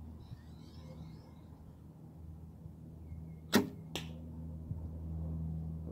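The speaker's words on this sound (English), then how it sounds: "It wasn't that loud. It was pretty smooth, drew smooth, and that was actually a fairly accurate shot" An arrow loosed from a 30-pound recurve bow at a black hunter duck target gives one sharp thwack followed shortly by a second knock, faint against a quiet outdoor background with soft birdsong.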